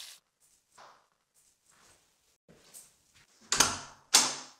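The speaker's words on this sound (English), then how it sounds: "I'm going to get the door." A front door opening in a home after the doorbell rings, heard as two loud, close bursts of rattle and creak near the end, after some soft shuffling and handling noises.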